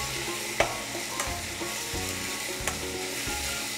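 Meat with chili powder frying in a pan and being stirred, giving a continuous crackling sizzle punctuated by a few sharp utensil scrapes and knocks.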